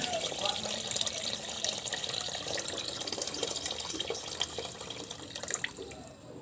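Water from a drum pours steadily and continuously into a pot, a rushing, splashy stream filling it from start to finish.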